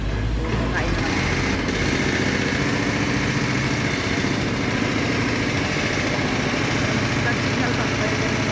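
Steady construction noise fills the scene, a continuous broadband engine-like drone with no pauses, heard close and fairly loud throughout.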